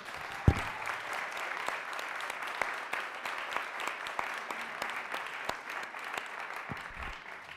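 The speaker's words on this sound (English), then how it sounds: "have a round of applause for all of you?" Crowd applause at the mayor's kick-off of New York City's 2016 HOPE Count, a dense steady patter of many hands with a few sharper claps and a brief low thump near the start, moderately near and fairly even throughout.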